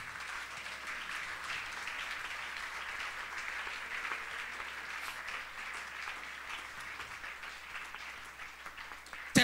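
A church congregation applauds during a Spanish-language sermon, the clapping steady and fairly soft at a distance, continuing evenly for several seconds before ending abruptly.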